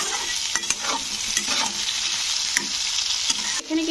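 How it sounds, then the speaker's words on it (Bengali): Potatoes and eggplant frying in a pan with salt and turmeric, stirred steadily: a continuous close sizzle broken by several scraping spatula strokes and clicks, with no voices. "তো দিয়ে আবার একটু এটাকে নাড়াচাড়া করে ভেজে দেবো।"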